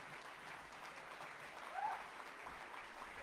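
An audience at a summit applauds a Member of Parliament, a steady wash of distant clapping that holds at an even, fairly faint level throughout, with a slight swell near the middle and no talk over it.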